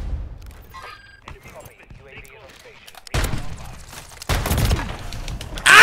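Gunfire in the video game Modern Warfare 3: loud, dense bursts of shooting arrive in the second half, mixed with excited voices talking over the action.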